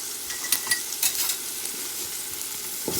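Vegetable fried rice with fried rice seasoning stirred in a pan, a bright continuous sizzle punctuated by several quick spatula scrapes and clicks, close up, no voices.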